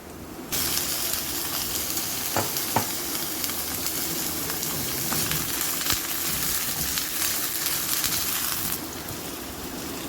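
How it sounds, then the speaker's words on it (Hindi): Mutton pieces fry with softened onions in a pot, a loud steady sizzle and hiss carrying on for several seconds with a few stirring scrapes and no talking. "गोश्त को इतना फ्राई करूंगी कि इसका रंग चेंज हो जाए"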